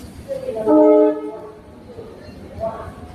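A train at a railway junction en route to Banaras sounds a loud, sustained horn blast early on, followed by low rumbling station ambience and faint voices.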